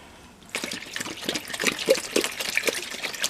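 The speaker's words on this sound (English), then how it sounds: "Now we're going to put a little bit more water in." Water poured from a jug into a container, a steady splashing trickle that starts abruptly and continues with uneven gurgles, close and fairly loud.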